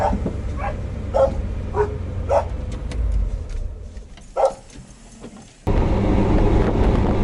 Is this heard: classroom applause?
no